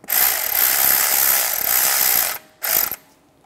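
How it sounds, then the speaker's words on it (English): A ratchet clicks rapidly and loudly while tightening brake caliper bolts on a 2011-2015 Chevrolet Cruze, a long continuous run of clicking, then a short second burst before it stops. "Take the caliper bolts, get those started. Tighten those down."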